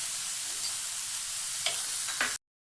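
Cluster beans cook with homemade black masala in a pan, a steady hiss of frying with two brief stirring scrapes near the end before it cuts off abruptly.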